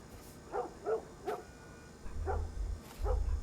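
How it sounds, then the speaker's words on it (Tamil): A dog in the video game The Last of Us barks about five times in short separated bursts at moderate distance over a low rumbling background. "நாய் கத்திகிட்டே இருந்துச்சுங்க"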